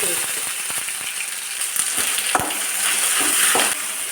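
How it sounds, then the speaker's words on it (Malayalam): Dried red chillies with ginger and garlic paste sizzle in a pan while being sautéed and stirred, a steady close frying hiss broken by scraping stirs and small pops. "ഇഞ്ചിയുടെയും വെളുത്തുള്ളിയുടെയും പച്ചമണം മാറുന്നത് വരെ ഒന്ന് വഴറ്റി കൊടുക്കാം"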